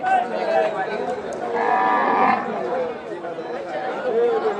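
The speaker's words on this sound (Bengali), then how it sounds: "কাজলা কালো একটি গরু।" A black cow among the cattle at a busy livestock market lets out a low moo under steady crowd chatter and nearby voices.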